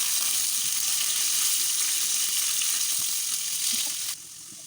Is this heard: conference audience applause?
no